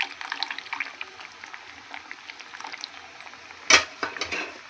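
Sambar bubbles and simmers in a pot, with soft popping and spattering, then a brief louder clatter near the end.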